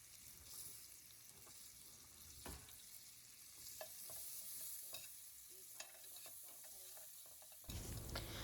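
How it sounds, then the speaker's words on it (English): Onions saute in butter and oil in a pan for liver-and-onions gravy, a faint, steady low sizzle with occasional soft clicks and scrapes, rising to a louder burst at the very end. "I'm going to go ahead and saute my onions, get them a little translucent and browned before I start the gravy"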